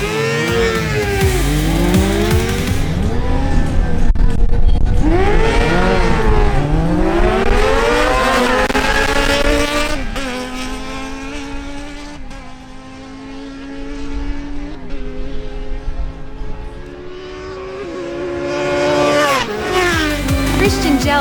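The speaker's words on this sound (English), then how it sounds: "Martin Correa on his Kawasaki Ninja Z1000SX faces Christian Gels on his Yamaha" A Kawasaki Ninja Z1000SX and a Yamaha R6 drag race side by side, engines revving loudly in repeated rising sweeps as they shift up through the gears, a continuous close roar that dips briefly midway before surging again.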